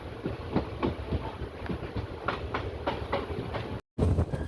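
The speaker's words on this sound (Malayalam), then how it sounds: "അങ്ങനെ പാറശാല റെയിൽവേ സ്റ്റേഷനിൽ നിന്നും ട്രെയിൻ എടുക്കുകയാണ്." A train pulls out of Parassala railway station, wheels clacking in a steady rhythm of close, loud rail beats, briefly cutting to silence near the end before resuming.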